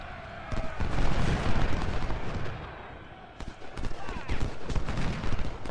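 Massed musket volleys and booming artillery rumble through an American Civil War battle at Chantilly in Ultimate General: Civil War, dense and continuous at mid distance, with someone talking over the gunfire.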